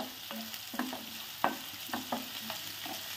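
Ingredients sauté in a hot pan with a continuous sizzle, broken by repeated scraping stir strokes at an uneven rhythm, close and fairly quiet, with no talking.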